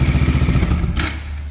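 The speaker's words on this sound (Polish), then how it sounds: "To wypadałoby odpalić silnik, niech pochodzi." A Bajaj Dominar 400 motorcycle idling just after an oil change, its single-cylinder engine thumping in a steady rapid rhythm close by, then dropping off near the end with a brief clatter.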